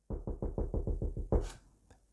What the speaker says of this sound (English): He knocked again at the door.